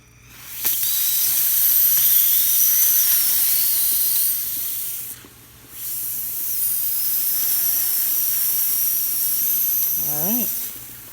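A La Pavoni espresso machine's steam wand hisses steadily and loudly, cutting off briefly midway before resuming for several more seconds of continuous steaming.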